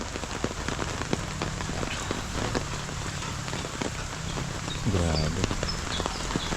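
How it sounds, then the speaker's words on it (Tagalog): Steady heavy monsoon rain pours down, a dense hiss of drops with scattered splashes and a brief low thud near the end. "Doon nagsimula yung ulan na to."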